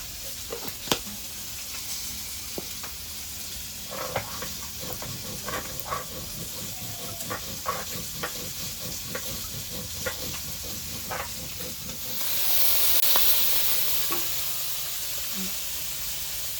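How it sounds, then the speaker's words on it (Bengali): Magur and shol fish frying in a pan, a steady close sizzle with scattered pops and spatters, swelling into a louder hiss of steam near the end. "মাছটা ভাজা হয়ে গেছে, ভালো করে আমি তুলে নিব।"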